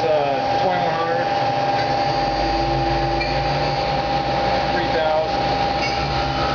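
A Mazak QT20 CNC lathe spindle spins up to 2100 RPM, a loud, steady mechanical whine and hum with tonal bands and no pauses.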